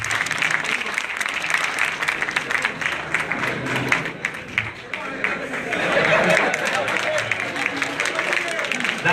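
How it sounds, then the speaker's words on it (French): Applause from an audience in a hall during a Senegalese political event, uneven clapping and crowd noise that swells toward the end, mixed with chatter and voices. "Et je vous demande d'applaudir cela."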